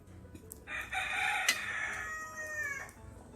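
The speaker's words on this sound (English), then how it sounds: "this rooster that I hear crowing" A rooster crows outdoors near a home grill area, one long clear cock-a-doodle-doo rising and holding before trailing off, fairly close and alone without speech.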